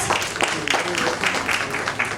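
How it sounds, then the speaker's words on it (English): Audience applause welcoming a speaker onstage at a media industry summit, a steady wash of many hands clapping at moderate level throughout, with faint voices mixed in. "Round of applause."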